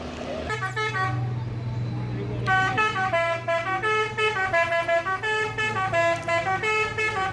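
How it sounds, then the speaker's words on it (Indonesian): A Transport Express bus bound for Jakarta, arriving at the terminal from Padang Pariaman, sounds a multi-tone musical horn in a long series of repeated bursts over a low idling engine rumble nearby. "dari arah Padang Pariaman masuk satu unit bus Transport Express tujuan Jakarta dan sekitarnya"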